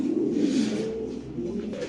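Pigeons at a fancy pigeon farm in Bangladesh coo steadily throughout, a low, close, continuous murmuring that fills the short stretch with no talk over it.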